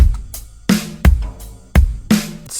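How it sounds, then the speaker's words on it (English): Standard rock drum loop, a short steady pattern of alternating kick and snare hits with bright cymbal tails, punchy and close, playing alone. "Standard rock type drum loop"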